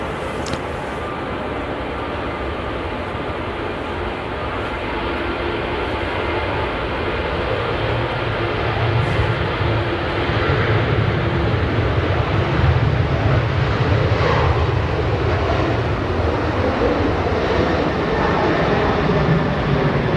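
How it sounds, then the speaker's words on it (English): Departing Manchester Airport for Tenerife, a Ryanair Boeing 737 jet airliner sends out a loud, rumbling engine roar that builds gradually and stays strong and continuous, with a buffeting, wind-like texture and nobody talking. "Ryanair 737 on the way to Tenerife."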